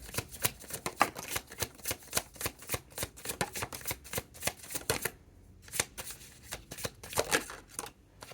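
Tarot cards are shuffled by hand with a rapid, rhythmic riffling and slapping. The sound is close and continuous, with a short pause partway through.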